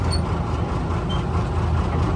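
An M5 gun tractor drives on an open road, its engine a loud, steady low rumble with road noise holding evenly throughout the short stretch.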